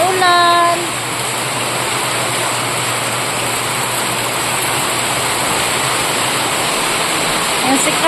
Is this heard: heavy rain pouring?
yes